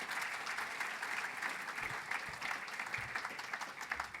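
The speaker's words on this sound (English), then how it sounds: "Let's give Gabe another round of applause," An audience at a talk on turning roads for vehicles into streets for people claps steadily and fairly loudly, a dense, sustained round of applause with no voices over it.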